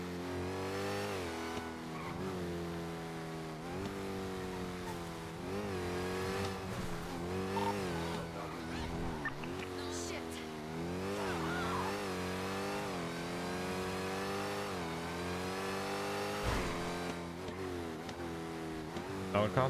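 Car engine in a GTA role-play game revving and surging continuously, its pitch climbing and dropping through repeated accelerations with occasional tire noise, steady and fairly loud throughout.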